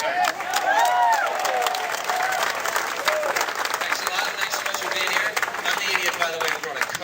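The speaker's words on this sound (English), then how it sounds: "You'd please welcome with a real big round of applause for Doug McIntye." A large comedy-club audience breaks into a big round of applause and cheering for comedian Doug McIntyre, dense steady clapping filling the whole stretch with crowd noise mixed in.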